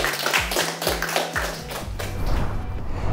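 Audience clapping on the South African show Maak My 'n Miljoenêr, rhythmic claps and thumps at first, then settling into steady crowd applause, moderately loud with a low hum underneath.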